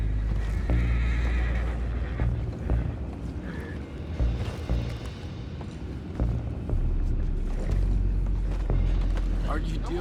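Horses whinny and neigh amid loud low rumbling in the Red Dead Redemption 2 video game, with clip-clopping hooves and game voices talking over the commotion.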